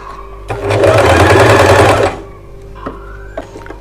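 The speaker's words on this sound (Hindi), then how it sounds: "स्ट्रेट सिलाई करनी है हमें।" A sewing machine straight-stitches a blouse in one loud, close run of rapid whirring stitches lasting about a second and a half, followed by a few light clicks.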